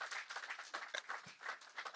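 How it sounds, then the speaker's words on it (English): A crowd at a members' evening and induction ceremony applauds, a steady patter of many hands clapping at moderate distance with no speech. "Keep on clapping for MedPlus"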